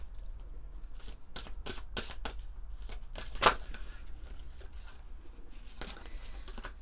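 Oracle cards from The Venice Witch deck being shuffled by hand, giving quick irregular bursts of papery riffling and flicking, close and soft, with one sharper snap partway through.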